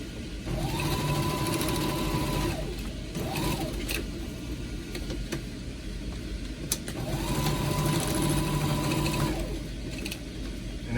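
A sewing machine runs in steady bursts of stitching, with two long whirring runs and a short one between them. It stays close and fairly loud, with a mechanical hum underneath and no talking.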